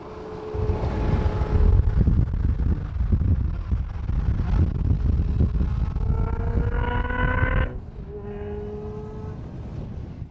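A Ferrari sports car drives past with a loud, broad engine roar, its pitch climbing through gears before dropping off near the end, with wind buffeting the microphone throughout.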